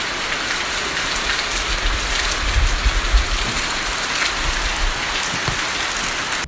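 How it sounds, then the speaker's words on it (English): Steady rain pours in the Sirumalai hills of Tamil Nadu during an afternoon shower, a dense, even hiss of drops close by with a few soft low thumps and no voices. "We stopped halfway and had to return back as it started raining."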